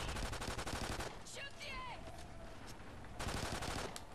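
Gunfire in the Call of Duty: Ghosts Extinction Nightfall mode, with dense bursts at the start and again near the end, and a gap between them holding whistling, chirping sounds.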